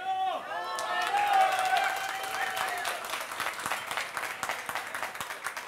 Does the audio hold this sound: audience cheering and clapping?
yes